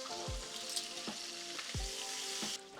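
Bacon sizzling and crackling in a hot pan, a steady bright hiss broken by a few clanks and scrapes of utensils stirring it, close by with no talking.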